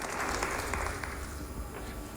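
Steady applause fills the space, a dense wash of many hands clapping at moderate volume, sounding somewhat distant.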